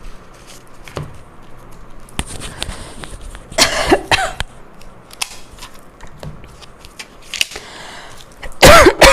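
Several sharp coughs come in bursts over a quiet background, with small clicks and rustles between them and a loud cough at the end.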